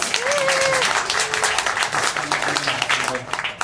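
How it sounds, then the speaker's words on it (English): An audience at a magic show claps in a lively round of applause for a volunteer, steady clapping with a few whoops and voices mixed in among the crowd. "Everybody give Stephanie a big round of applause."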